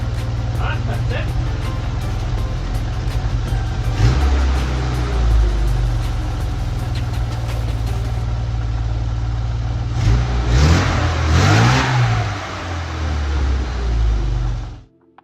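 A car engine with an upgraded carburettor and exhaust idles with a steady low rumble after idle screw adjustment, then revs up and settles twice before cutting off abruptly; someone talks over it.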